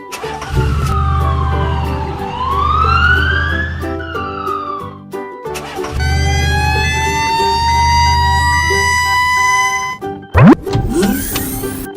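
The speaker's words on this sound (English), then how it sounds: "Black police car." A black toy police car sounds a loud electronic siren, first a swooping wail and then a long steady high tone, over a constant motor hum, close by, finishing with a sharp upward sweep.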